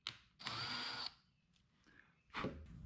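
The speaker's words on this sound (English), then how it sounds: "I follow that up with a 1/2 inch drill bit and I just go down a little bit" A 1/2 inch drill bit bores a short hole in wood while making a marking gauge, with two loud bursts of power drilling and a quieter whir between them, no talk.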